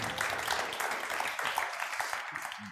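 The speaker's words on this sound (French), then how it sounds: "Je crois qu'on peut applaudir Monsieur l'adjoint au maire." An audience applauds the deputy mayor at a public forum, a steady patter of clapping that fills the space for a few seconds with a faint voice or two underneath.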